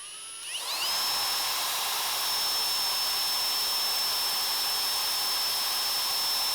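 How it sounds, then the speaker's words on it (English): Drill spinning a ramrod-tip pin held against a file to cut it down, a high, steady whine that quickly rises to speed and then holds constant, loud and close. "chuck up the pin in your drill and hold a file against it to cut it down in size a little bit"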